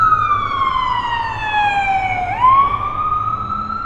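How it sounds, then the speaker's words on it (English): An ambulance siren on a New York City street in Manhattan, loud and close, its wailing tone sweeping steadily downward and then jumping back up as it passes over a low traffic rumble. "We'll wait for the ambulance to go by."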